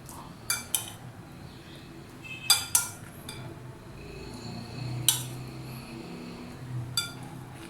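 Sharp metallic clinks of a utensil against a dish as lemon chili pickle is moved into another dish, a few scattered knocks and scrapes over a low background hum, with no talking.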